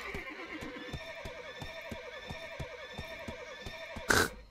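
A horse in the online video game Black Desert Online trots with a steady, evenly spaced clip-clop of hooves, then gives one loud, bright neigh near the end, with no voices.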